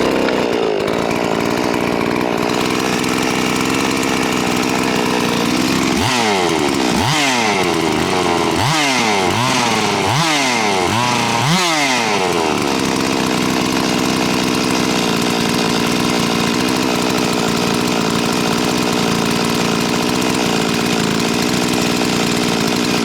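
A ported Farmertec MS440 chainsaw, heard close and loud as several rapid pull-start attempts that sputter, then catch and settle into a steady, buzzing two-stroke idle that runs on without a break.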